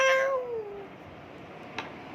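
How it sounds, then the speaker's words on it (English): A cat gives one clear, close meow that falls in pitch and fades, followed by a brief faint click. "cat meow"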